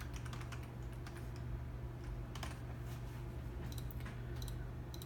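Typing on a computer keyboard: soft, quick key clicks in short bursts over a steady low hum, fairly quiet and close.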